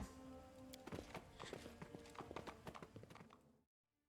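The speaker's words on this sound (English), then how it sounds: "Sela, why don't you get on your horse" Horse hooves clip-clop in a steady walking rhythm in Pathfinder: Wrath of the Righteous, close and fairly loud, with other light game sounds mixed in before everything cuts to silence near the end.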